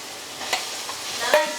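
Chicken curry in a pot is stirred with two or three soft scraping strokes and a metallic clink over a faint, low simmering sizzle, heard close and fairly quiet.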